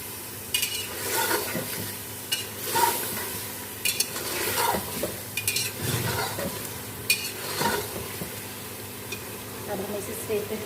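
A masoor dal mixture fries and sizzles in a pan while a spoon stirs and scrapes it, giving a continuous close crackle broken by repeated scraping strokes.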